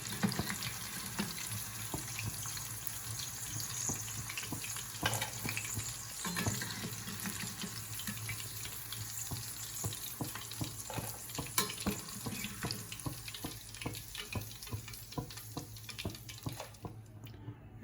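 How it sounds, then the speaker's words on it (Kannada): Prawns deep frying in hot oil for prawns 65, a steady soft sizzle and bubbling throughout, fairly faint and continuous with occasional stirring clinks, no talking. "ಎಲ್ಲ ಡೀಪ್ ಫ್ರೈ ಹಾಕಿದೆ"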